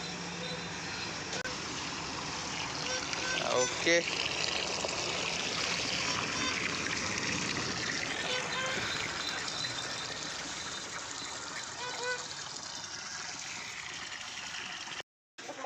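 Flowing water running steadily in a village setting, a continuous rushing wash with traffic noise behind it and voices talking over it.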